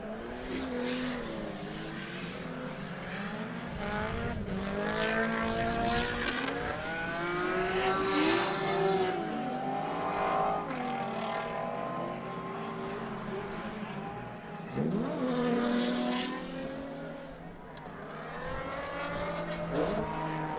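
A drift car on a race track screams past with rising and falling engine revs and sharp throttle shifts, swelling louder as it nears and fading between passes, with no talk over it.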